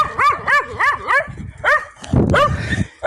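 Stray dogs in a village street bark repeatedly and loudly nearby in a quick series of yelping barks. A rougher scuffle and more barks follow near the end.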